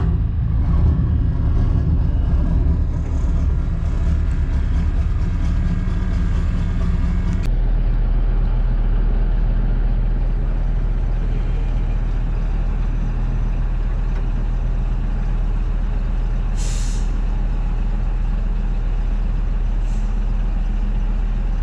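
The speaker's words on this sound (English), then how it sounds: "Now it's time to fire up the twin Caterpillar V8s and get back to our berth." Twin Caterpillar V8 diesel engines on a boat rumble loudly with a deep, steady low-frequency drone, changing character partway through as the second engine joins. A couple of brief hissing bursts sound later over the running engines.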